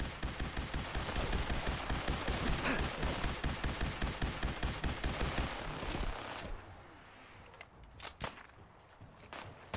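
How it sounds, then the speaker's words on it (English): A video-game minigun fires a rapid, continuous stream of rounds for about six seconds, loud and rhythmic, then stops, leaving a few scattered distant shots and impacts. "Dude with that minigun over there."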